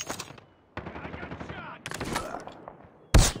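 Gunfire in Call of Duty Mobile, a rapid crackling burst of in-game shots followed by a loud, sharp blast at the end, with game effects around it.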